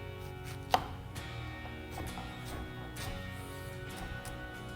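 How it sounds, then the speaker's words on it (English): Serrated knife chopping vegetables on a board, a sharp cut standing out early followed by softer repeated sawing strokes over steady kitchen background. "because it's a serrated knife, you always have to make a motion either forward or backwards"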